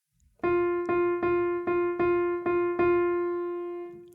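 A single pitched instrument plays a short rhythm of repeated notes on one pitch, quick pairs and longer notes, ending on a sustained tone. No talking.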